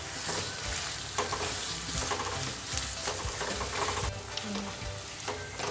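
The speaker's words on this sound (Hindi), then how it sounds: "तो इसको मैं अच्छे से प्याज के साथ मिक्स करूँगी और चंद सेकंड के लिए मैं इसको थोड़ा सा इसमें फ्राई होने दूँगी" Minced meat (keema) frying with onions in a pan for a khade masala keema, a steady close sizzle with stirring scrapes running throughout, with no voices.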